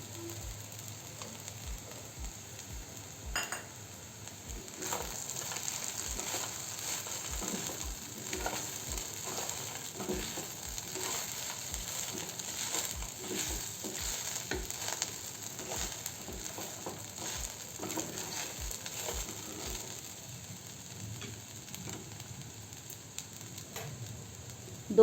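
Sabudana khichdi with crushed peanuts frying in a pan, stirred steadily: a continuous soft sizzle broken by regular scraping strokes of the spoon, close and moderately loud with no talking.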